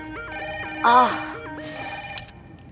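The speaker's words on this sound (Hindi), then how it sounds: "फोन बज रहा है, सुनाई नहीं दे रहा है तुमको?" A telephone rings with a repeating electronic ringtone pattern, fairly close and steady, while a voice briefly cries out partway through.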